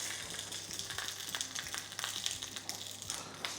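Duck magret sizzling skin side down in a hot pan, a steady, fairly quiet crackle and hiss of frying fat running throughout, with no voices over it.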